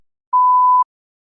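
A single clean electronic test-prompt beep, one steady mid-pitched tone lasting about half a second, loud and isolated against silence.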